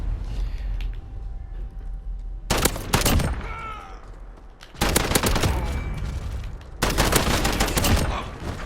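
Bursts of FAL rifle hipfire in the video game Modern Warfare, with three loud volleys of rapid gunfire separated by quieter stretches of background game noise.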